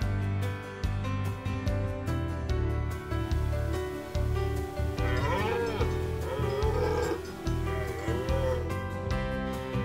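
A red deer stag bellows during the autumn rut, deep drawn-out roars repeating throughout, loud and close, with no other voices.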